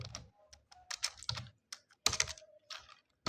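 Quiet clicking of typing on a computer keyboard, irregular bursts of keystrokes with brief gaps, close but soft.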